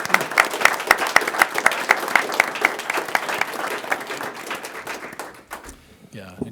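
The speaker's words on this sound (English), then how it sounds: "another round of applause" Applause from an audience at a city council meeting, a brisk round of many hands clapping with distinct individual claps audible, tapering off and fading out near the end.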